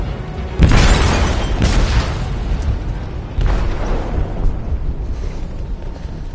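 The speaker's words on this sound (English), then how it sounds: "They detonated an explosive in the hold." An explosive detonates in a ship's hold with a heavy boom, then a second blast follows a few seconds later, both loud and close, trailing into a sustained rumbling roar.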